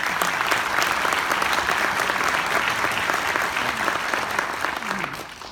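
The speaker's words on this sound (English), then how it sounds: "Applause." Audience applause fills a concert hall after an orchestra performance, a steady dense wash of clapping that holds loud throughout before easing slightly at the end.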